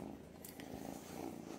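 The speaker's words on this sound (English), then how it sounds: "Sweet potatoes purring up a storm and making air biscuits on me." A kitten purring up close, a soft continuous low rumble with a gentle pulsing texture and a couple of faint clicks or rustles, quiet and alone.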